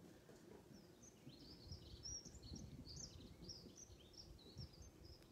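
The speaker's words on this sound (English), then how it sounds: "I can hear the birds." Birds sing outside a sanctuary building, a series of faint high chirps and short warbling phrases repeating over a low rumbling background, heard from some distance with no talking.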